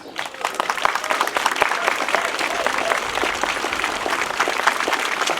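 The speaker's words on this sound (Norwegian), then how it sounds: "En stor applaus til Konrad Myrland." Audience applause for Konrad Myrland at a Norwegian rally supporting Israel, a steady, dense burst of clapping from a sizable crowd that holds at an even level throughout.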